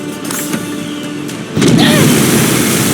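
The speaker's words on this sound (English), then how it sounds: "They're trying to bomb us." Bomb blasts in the Sand Land video game during a tank battle against a cargo airship, with a sudden loud broadband boom about halfway through that rolls on as sustained rumbling, over an earlier steady game din with faint talk.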